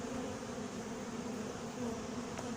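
Bees drone steadily at an open horizontal top-bar hive during an inspection, a dense, even buzz that holds close and constant throughout with no voices.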